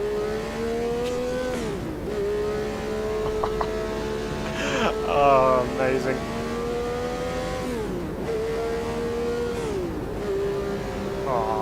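A Brabham BT46 Formula 1 car in the Automobilista 2 racing game screams through repeated rising gear runs, its engine pitch climbing and dropping at each shift. A voice briefly exclaims over the engine.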